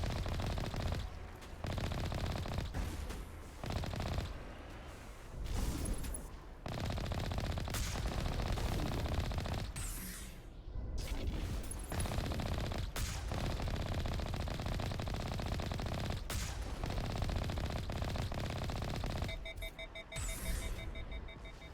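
Enemy gunfire in a video game, dense and continuous rapid shots with brief lulls, loud and close throughout, no talking.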